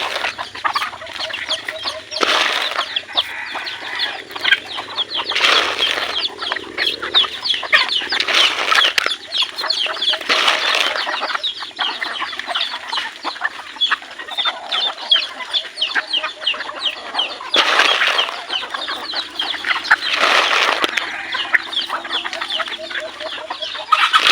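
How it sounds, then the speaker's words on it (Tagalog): Chickens, including labuyo breeders, cluck and squawk close by in repeated bursts at feeding time in rainy weather, with rooster-like calls and some wing flapping, no talking. "Ako ay magpapakain muna ng mga alaga nating mga manok"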